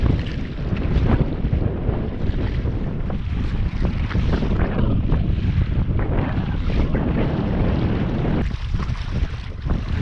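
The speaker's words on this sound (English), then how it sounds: "it's a little bit windier than I was thinking" Strong wind buffets the microphone while a boat crosses choppy water at Woodman Point before dawn, a steady loud roar with thumping gusts and slapping waves throughout, no voices.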